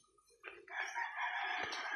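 Chickens vocalizing close by, with a sustained crow-like call rising over softer clucks, no voices present.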